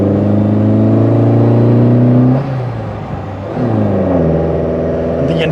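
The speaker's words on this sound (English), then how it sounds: "The induction sound almost sound like a turbo whine." Citroën AX 1300 Sport hot hatch engine accelerating during a test drive, loud droning engine note with whining induction that climbs in pitch, dips briefly at a gear change, then rises again, heard from inside the car.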